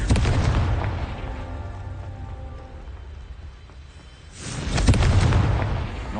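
Confringo fire spell explosion in the video game Hogwarts Legacy: a heavy booming blast with rushing, crackling debris that fades away, then a second loud boom swells back up near the end.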